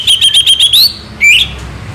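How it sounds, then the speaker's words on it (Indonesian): A loud, close songbird sings a rapid series of sharp, high chirps, pauses briefly, then lets out a rising whistled phrase. "Burung suaranya tembus."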